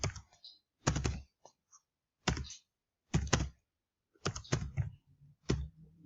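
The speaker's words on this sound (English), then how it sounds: "I've got some values that I'm typing in." Values being typed into a spreadsheet on a computer keyboard, heard as quiet, close clusters of key clicks in short bursts separated by pauses, with no talk.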